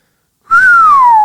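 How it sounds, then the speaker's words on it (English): A single clear, loud whistled note that slides slowly downward in pitch, held for under a second after a moment of silence. "The whistling."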